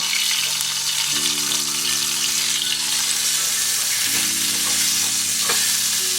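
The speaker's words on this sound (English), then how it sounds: "we're gonna put it in a pan, medium-high heat, score side down. Sear it out, a little bit of that fat." Steak searing score-and-fat side down in a pan over medium-high heat gives a loud, steady sizzle throughout, with low tonal hum lines running beneath it.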